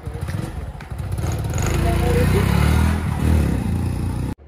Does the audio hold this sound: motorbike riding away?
yes